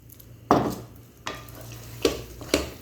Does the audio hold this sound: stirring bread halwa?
yes